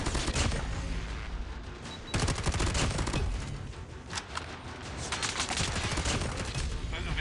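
Light machine gun fire in a shooter video game, rapid sustained bursts of automatic shots with brief pauses, loud and close, with game sound effects mixed in.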